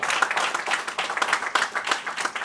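Rhythmic clapping from a group, coming in quick uneven bursts with a few soft voices mixed in.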